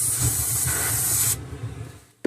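Freeze spray blasting onto a noisy transistor in a Sony STR-313L receiver: a loud, steady close hiss for over a second, then it cuts off into faint residual sputter and a small click at the end.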